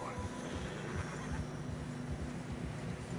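Horse whinny from Red Dead Redemption 2, heard over a steady bed of game ambience in snowy terrain, with low rhythmic hoof or movement sounds running throughout.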